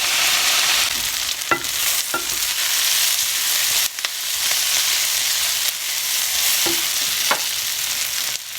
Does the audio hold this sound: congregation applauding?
no